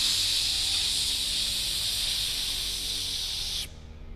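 A voice imitates a pressure cooker with one long, steady, breathy hiss held close and loud, cut off abruptly near the end.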